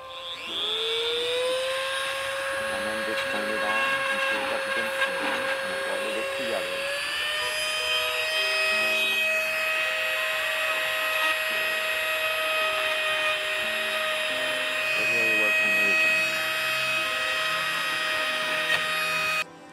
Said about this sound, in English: So I stuck a piece of filament in a Dremel and I turned the Dremel on and it like friction welded it together.